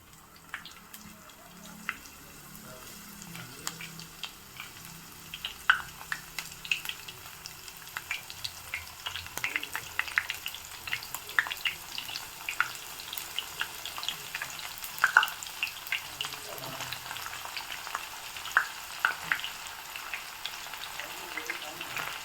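Bitter gourd pieces fry in hot oil in a pan, giving a quiet, steady crackle with scattered pops and faint scraping, and a voice speaks softly in the background at times.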